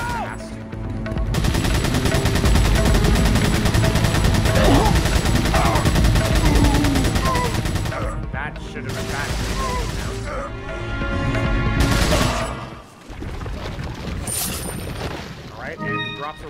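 TMP submachine gun fire in the video game Resident Evil 4 Separate Ways, rapid loud bursts of automatic shots over several seconds, pausing and resuming, mixed with game music and noise while someone talks.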